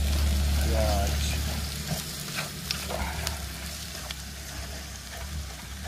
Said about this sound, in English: cooking Chinese on the campsite and the cast iron